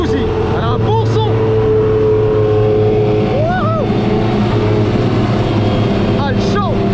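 A Ferrari Testarossa engine rumbles loudly and continuously close by, with a rough steady revving tone, while people talk and shout over it.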